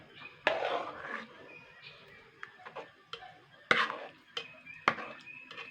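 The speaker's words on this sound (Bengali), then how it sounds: "এবার এটাকে কিন্তু হাতার সাথে আগে ভালো করে কিন্তু গুলে নিতে হবে" A ladle stirs sabudana (sago) batter in a vessel for papad, making irregular clinks and knocks against the pot, with a sloshy stretch at the start and sharper taps after it.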